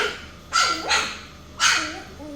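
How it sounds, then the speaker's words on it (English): Three sharp, high-pitched yappy barks from a small puppy, two close together then one more after a short pause, fairly near. "that's Mercy barking."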